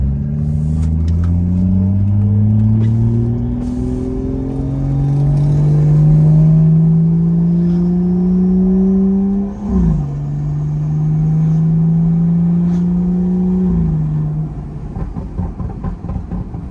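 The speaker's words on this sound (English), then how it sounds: "So the turbo definitely sounds different. It's less high pitched." A BMW 440 with a B58 engine and an upgraded Dynamic AutoWerx turbo revs up, holds high revs, then rises twice more; loud and close, with a deep engine drone and a faint airy turbo tone over it.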